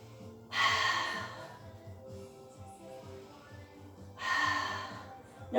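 Two loud, breathy exhalations during a pilates exercise on a big ball, a few seconds apart, with a low background hum between them.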